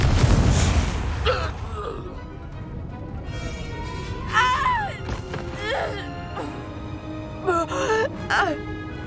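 The Confringo blasting spell from Hogwarts Legacy goes off with a heavy boom at the start and fades out. Voices follow, crying out and moaning in bursts over the battle din.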